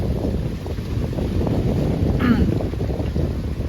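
Steady wind gusts at the seaside in Pattaya, Thailand, rushing and buffeting a handheld microphone throughout, with a brief voice surfacing midway.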